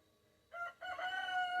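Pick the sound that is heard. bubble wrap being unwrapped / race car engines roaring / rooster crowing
rooster crowing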